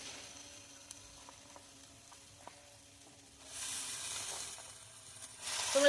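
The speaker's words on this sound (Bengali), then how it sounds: "এগুলো আমার ভালো করে ভাজা হয়ে গেছে এবার এর মধ্যে আমি শাকটা দিয়ে দেবো" Fresh winter spinach goes into a pan of fried pond snails. Quiet ticking gives way to a soft, swelling hiss of sizzling that grows louder toward the end.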